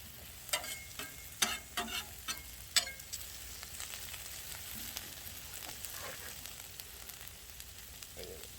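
Potatoes frying in olive oil on a 36-inch outdoor flat top griddle, a steady close sizzle with a few sharp scraping and clattering hits from a spatula early on, no talk.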